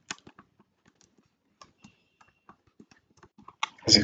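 Typing on a computer keyboard, sparse light key clicks tapped irregularly at close range in a quiet room, ending in a louder burst of noise.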